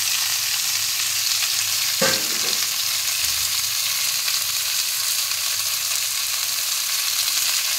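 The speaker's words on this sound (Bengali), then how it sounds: "মটরশুঁটিগুলো ফাটার আগেই আমি বাঁধাকপি কুচিগুলো দিয়ে দিলাম।" Green peas and finely chopped cabbage fry in a pan, giving a loud, steady, close sizzle throughout, with one brief stirring clatter early on and no voices.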